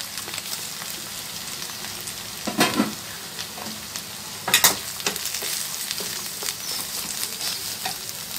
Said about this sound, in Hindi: खोवा डालने के बाद 1-2 मिनट के लिए मैं इसको पका ली।